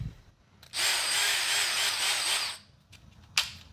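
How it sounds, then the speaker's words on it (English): A power drill bores a 4-inch hole in the wall of a box van, a loud harsh grinding whine lasting about two seconds, then a short, sharp burst near the end. "now I'm going to drill a 4-inch hole"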